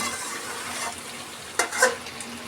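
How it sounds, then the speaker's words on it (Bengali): Beef korma stirred in a kadai on a stove, with a low steady sizzle and a couple of short spoon scrapes and clatters near the end. "আজকে আমি দুই চুলাই কড়াইতে রান্না করতেছি"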